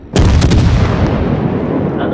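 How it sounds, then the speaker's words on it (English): Naval guns fire high explosive shells in the World of Warships video game, with a loud booming salvo at the start and a sustained rumbling roar that carries on through the rest of the moment. "just sending high explosive as much as I can"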